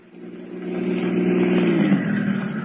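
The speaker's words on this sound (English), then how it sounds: "All right, Duke, get in the car." A car engine sound effect in a radio drama, a mid-pitched motor that swells from quiet into a steady, fairly loud revving rumble and holds there.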